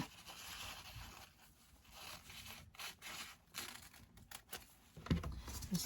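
Scissors snip and slide through a ti leaf being trimmed to shape for a leaf bra, soft close rasping cuts with a few quiet pauses and a sharper snip near the end.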